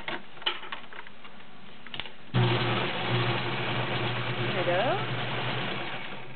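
A Kenmore model 1803 sewing machine starts up and runs stitching through three layers of leather with a size 16 needle, a steady close mechanical whir following a brief spoken remark.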